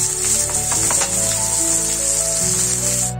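Ivy gourd (kundli) bhaji frying in a pan, heard as a steady close sizzle with a low hum running underneath and brief stirring rattles.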